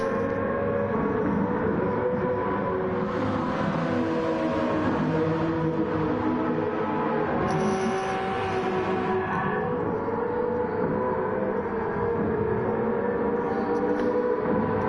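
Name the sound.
vintage Le Mans race cars in Gran Turismo 7 video game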